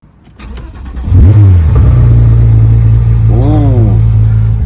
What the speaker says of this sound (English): so this is how this Porsche 911 GT3 sounds